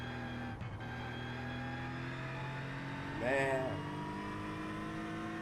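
A GT3 race car in iRacing hums along at a steady engine drone, then gives one sharp throttle blip and rev rise a little past the midpoint before settling again, with a brief spoken word early on.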